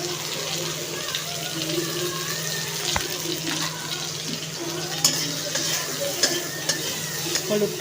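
Turmeric is stirred into fried mango pieces in a hot pan, a soft continuous sizzle with scraping stirs and an occasional clink of the utensil against the pan.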